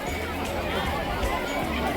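Dense crowd chatter fills the riverside ghat at Har ki Pauri, Haridwar, on a busy festival day, a constant murmur of many overlapping voices with scattered footsteps and nearby talk.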